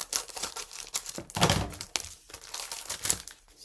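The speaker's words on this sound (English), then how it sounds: "got to cut it open" A trading card packet is cut open by hand at close range: soft crinkling and crackling of the foil wrapper with quick snips and rustles, quiet and alone.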